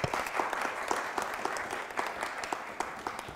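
A seminar audience gives a warm round of applause to the Secretary General of the WMO, a dense, moderately loud patter of individual claps with sharper hand smacks standing out throughout.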